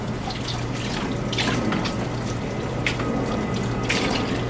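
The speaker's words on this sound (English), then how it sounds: "I'm just making sure to give it a wash, make sure there's no sand, no dust" Banana leaves being washed under a running tap: continuous close splashing and trickling water with a few louder spatters, no talking.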